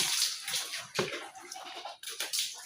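Water splashes and sloshes in short uneven bursts as potash water is poured over a cattle farm floor and the cows' feet, fairly faint with no voices.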